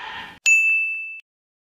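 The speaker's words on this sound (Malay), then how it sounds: "Yang dah subscribe, jangan lupa tekan loceng." A single bright notification bell ding rings once, clean and close, then fades quickly into silence after a brief burst of noise.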